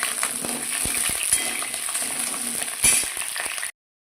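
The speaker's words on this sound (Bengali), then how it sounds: "পটলগুলোকে আমি ভালো করে ভেজে নেবো।" Pointed gourd (potol) frying in oil crackles with a steady close sizzle, broken by sharp utensil taps and clinks, then cuts off abruptly.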